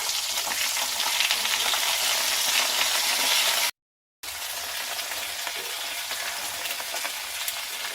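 Sliced ridge gourd cooks on a low flame while being stirred in a pan, making a continuous soft sizzle with faint scraping. The sound cuts out briefly near the middle, then the same steady frying resumes.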